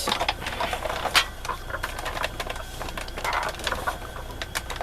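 A card-making die-cutting machine strains as thick card is pushed through, giving a steady mechanical whir with irregular clicks and crackling pressure, fairly close, with no talking.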